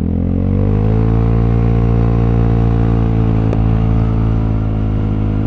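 A Vespa GTS300 scooter engine drones steadily while riding on a cold day. The low, loud, continuous hum stays close and even, with no talk over it.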